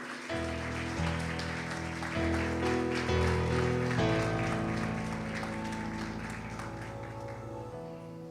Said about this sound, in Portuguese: Dá uma salva de palmas para Jesus aí.